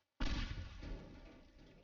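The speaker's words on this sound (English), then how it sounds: "Big explosion." A single loud explosion in the destruction game Teardown bursts out abruptly after silence, then rumbles and decays over about a second and a half.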